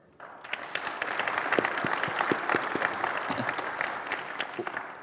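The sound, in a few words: conference audience clapping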